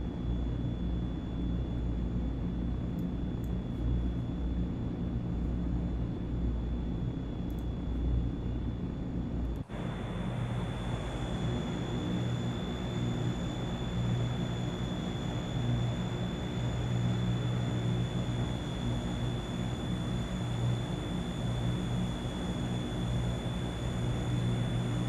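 Aircraft engine in Microsoft Flight Simulator 2024 during a landing approach: a steady, even drone with a constant high whine holds throughout, with a slight shift in tone partway through.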